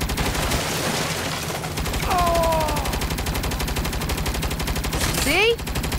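Turret gunfire in Saints Row roars in a continuous rapid stream of loud, dense shots, with whooshing effects and brief voices over the barrage.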